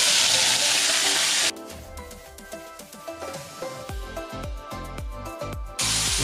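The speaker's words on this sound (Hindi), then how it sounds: "इसमें मस्टर्ड ऑयल डालेंगे, तेल गर्म हो चुका है तो इसमें डालेंगे अभी ये सिल्कोम्स" Silkworms with the intestines removed drop into hot mustard oil, first with a loud bright sizzle, then a softer crackling fry with rhythmic scraping or stirring, then a loud sizzle again near the end.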